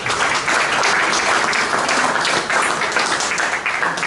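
Dense group applause fills a hall at an award ceremony of the 29th furniture fair, a steady, loud wash of many hands clapping without pause.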